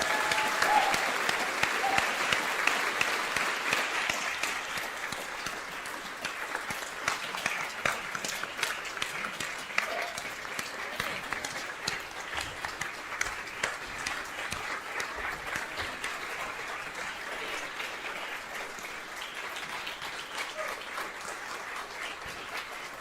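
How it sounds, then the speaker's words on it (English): Audience applause at an awards gala for book honours, sustained clapping that starts strong and tapers gradually over more than twenty seconds, with no voices. "please, a round of applause for Andrew Steeves and Gary Dunfield"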